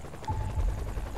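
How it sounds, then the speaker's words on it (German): A helicopter approaches in the video game Saints Row: The Third, a low, loud throbbing rotor rumble that stays steady for its short span. "Oh, jetzt kommt Hubschrauber."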